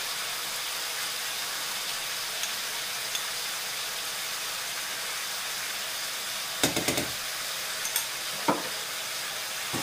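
A sweet-savoury mixture sizzles steadily in a pan after two spoonfuls of honey go in, with a continuous frying hiss and a few brief scraping clinks of stirring toward the end.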